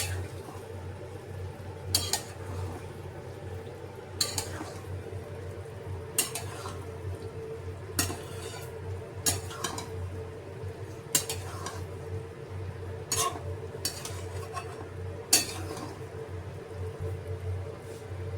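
Chilli chicken being stirred and mixed in a pan, with repeated sharp clinks of a utensil against the pan at irregular intervals over a soft ongoing sizzle.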